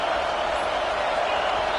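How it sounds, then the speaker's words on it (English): A dense, steady stadium roar from a college football video game crowd, Michigan versus Wisconsin, rocking loudly before the snap and forcing a false start, a continuous broadband wash with no break. "with this place rocking, the crowd forces a false start"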